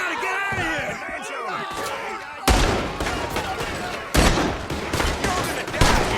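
Gunfire in Red Dead Redemption 2 during a chaotic boat shootout: loud, sharp volleys of shots burst out after a stretch of shouted speech, recurring in heavy clusters over dense game noise.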